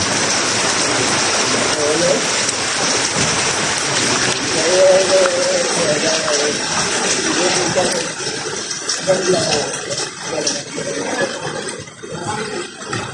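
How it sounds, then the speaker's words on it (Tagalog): Heavy rain pours steadily in a rural setting, a dense continuous hiss with splashing that stays loud throughout, with faint voices underneath. "Magtatambay mga tao ito dahil ulan."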